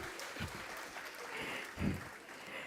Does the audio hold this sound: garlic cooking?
no